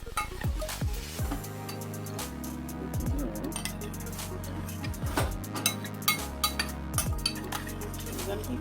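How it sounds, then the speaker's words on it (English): A thick homemade hair mixture of aloe, avocado and black castor oil being stirred in a container, with repeated scraping and light clinks under a busy background of music, fairly close and continuous. "I'm going to keep stirring."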